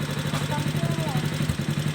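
A homemade motorbike in Limay, Bataan idles with a low, steady engine hum and light mechanical clatter, running close by under someone talking.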